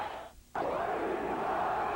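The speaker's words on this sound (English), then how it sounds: "And there's Frias chanting on with the crowd." A boxing crowd roars in a steady chant between rounds of a lightweight fight, the sound surging up loudly after a brief lull and then holding at a constant, dense level.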